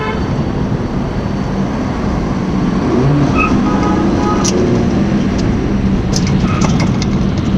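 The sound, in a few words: car driving on a road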